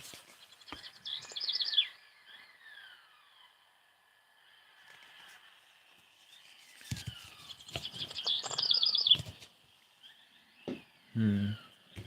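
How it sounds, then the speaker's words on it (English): Songbirds chirping in a quiet outdoor recording, two bursts of rapid trilling tweets separated by soft, thin calls, fairly faint and distant, followed by a few brief low knocks. "I got all of those birds in that recording."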